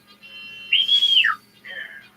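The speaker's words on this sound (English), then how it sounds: "He-Man's special whistle." A human whistle used as He-Man's special call for the Wind Raider: one long high tone bending up and then sliding down, then a shorter softer note, clear and close.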